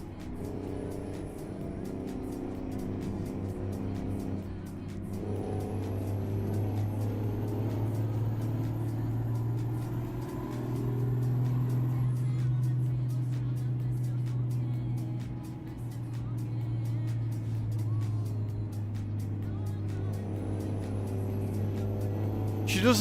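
A truck engine in the American Truck Simulator video game, a steady near drone that holds under the driving for the whole stretch, rising slightly in the middle, with a faint high whine over it.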